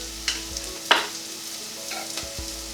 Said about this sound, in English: So we'll give that a quick stir